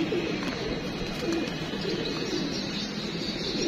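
Domestic pigeons cooing softly at close range, a low steady murmur running continuously under an ambient outdoor wash, with no voices present.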